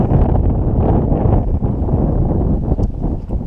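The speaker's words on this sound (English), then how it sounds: "It's windy" Wind blowing at a fishing pit, buffeting the microphone as a loud, close, continuous low rumble with gusty fluctuations, no talk.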